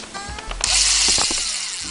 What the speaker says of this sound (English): I'll have to try and drill this in my hand.